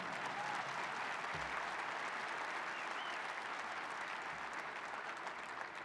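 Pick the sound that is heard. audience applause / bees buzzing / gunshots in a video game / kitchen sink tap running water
audience applause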